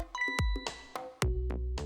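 Phone ringing in the Ghost Trick: Phantom Detective remaster game, a run of bright, chiming electronic tones with sharp attacks, repeating roughly every half second, clear and alone with no talk.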